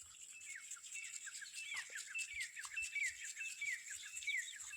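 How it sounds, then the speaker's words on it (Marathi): Partridges call from a distance in a steady stream of bright chirps and short whistles, overlapping one another against a quiet village morning background with no talking. "दूरवरचा तितर पक्षी त्याला प्रतिसाद देतो"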